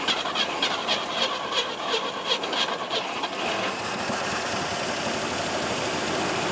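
An old 283 V8 engine fires up from a cold start after sitting for a long time, sputtering and then settling into a steady, rough idle, close and loud with no talking.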